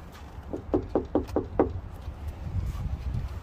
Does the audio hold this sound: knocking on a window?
yes